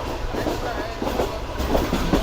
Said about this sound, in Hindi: ये इस वक्त ट्रेन हमारे पीएफ म्यूजियम के पास से गुजर रही है